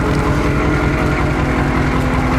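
A 1983 Chevrolet Suburban with a 6.2 diesel engine runs steadily in a dirty engine compartment, a loud close idle with an even rhythmic chug and no talking.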